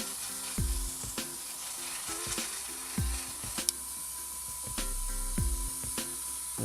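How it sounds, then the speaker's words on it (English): Vallejo smoke effect paint thinned with black is sprayed onto a model tank through an airbrush, heard as a steady hiss interrupted by several short mechanical clicks and low thumps at irregular intervals, with no talking. "I'm just spraying it on."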